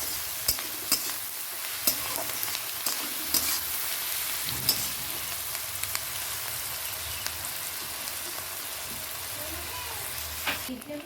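Chopped onion softening in hot oil in a pan for Bengali chicken kosha, a steady close sizzle with occasional stirring scrapes running the whole time.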